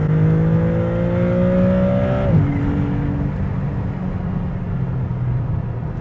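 A 2024 Maserati MC20 Cielo engine pulling hard on the road, a rising rev that peaks and drops with a gear change, then a steady roaring drone of the car at speed, close and loud with no talk.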